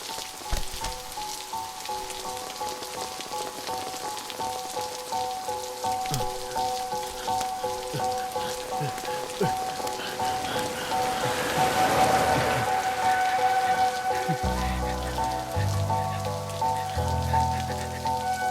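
Heavy rain pours steadily and loudly throughout, a dense continuous downpour drumming on surfaces with no voices heard.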